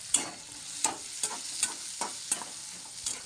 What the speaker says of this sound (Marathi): आणि त्याच्यातच कांदा पण टाकते तर आता हे फ्राय करून घेऊ बघा